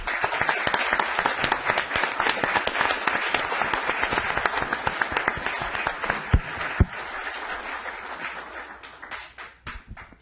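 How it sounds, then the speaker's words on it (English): Audience at a Capitola city council meeting applauds to welcome a new police chief, a dense, steady wash of clapping that thins toward the end with a few louder scattered claps. "Thank you very much for the wonderful applause"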